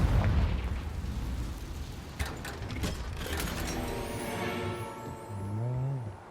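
Confringo fire spell cast in the video game Hogwarts Legacy, a loud explosive burst at the start followed by crackling impacts and a rumbling tail, with in-game sound effects trailing off.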